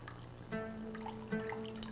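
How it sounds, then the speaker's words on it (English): Water draining from blanched spinach held in a mesh sieve, two distinct splashy drips over a low steady kitchen hum, close and fairly quiet, no speech. "Try to drain all the water as much as we can."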